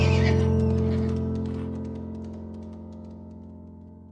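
A horse neighs loudly at the start, a whinny that fades over several seconds, with faint clip-clop of hooves beneath it.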